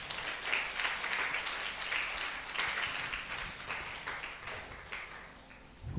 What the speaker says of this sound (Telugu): అందరం కూడా చప్పట్లు కొట్టి దేవుని మహిమపరుచు